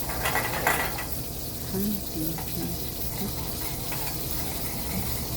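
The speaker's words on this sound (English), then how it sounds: "I'm going to sweat out my onions there." Onions sweating in a pan give a soft, steady sizzle with faint stirring scrapes, fairly quiet and continuous throughout.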